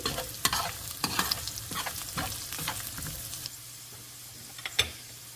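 Beans stir-fried on high flame for egg fried rice, with quick, loud spatula scrapes and clatter against the pan over a constant sizzle.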